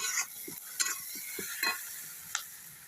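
Spice masala being sautéed in oil with chopped tomato, heard as a steady soft sizzle with intermittent scraping stirs of a spoon against the pan, close and alone.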